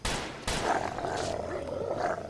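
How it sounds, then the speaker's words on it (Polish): Wolves attacking in a Wild West video game, with loud snarling growls and roaring bursts that overlap in a rough, aggressive run. "Wilków słyszę."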